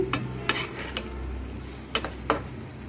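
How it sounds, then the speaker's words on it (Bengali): Spices stirred into a hilsa fish curry with tomato and lentil dumplings in a pan: a low steady sizzle punctuated by several sharp, distinct clanks of a spoon against the pan at irregular intervals, no talking. "তো এবার এই মশলাগুলো দিয়ে ভালোভাবে একটু মিশিয়ে"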